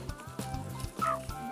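A rooster in a village yard gives short repeated clucks in a loose rhythm, close and moderately loud, with one higher squawk partway through.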